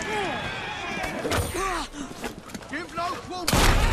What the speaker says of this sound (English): Why did you shoot me?